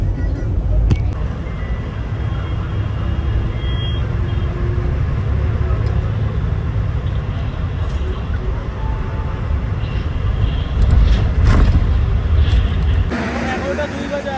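A bus pulling away and driving along a road, with a steady low engine rumble and road noise throughout, air-conditioning running inside, and people talking under the drone.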